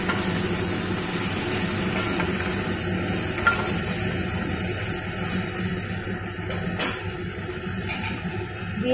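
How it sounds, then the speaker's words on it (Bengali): Red amaranth greens are stirred into a curry in a pan, a steady close sizzle with soft scraping and a few louder knocks of the spoon. "দিয়ে শাকগুলোর সাথে তরকারিটা একটু মিশিয়ে দেব"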